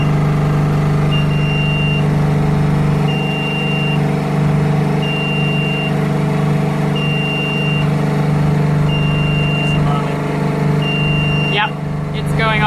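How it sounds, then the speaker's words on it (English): The alarm on a new UV water filter sounds a thin, steady electronic beep that repeats every couple of seconds, six times in a row, over a constant loud hum of running equipment. "we'll just check that this alarm is working"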